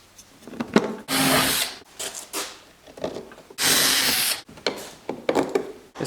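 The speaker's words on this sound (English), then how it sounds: "drill a hole, fit it in, tighten it down." A power drill bores a hole while fitting a repair on a police motorcycle Power Wheels toy, with two loud sustained bursts of drilling separated by quieter handling clatter, close up and without talk.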